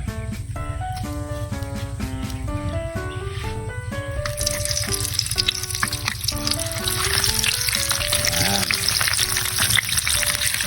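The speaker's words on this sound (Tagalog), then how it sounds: "Pwede na natin yung second fry." Chicharon bulaklak, battered pork intestine, crackles in hot oil during its second deep-fry, a steady dense sizzle throughout that swells louder partway through as the pieces settle in.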